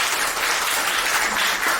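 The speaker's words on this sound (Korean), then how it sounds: "박수 한번 부탁드립니다." Audience applause at a church book concert, a dense, sustained patter of many hands clapping close by for about two seconds.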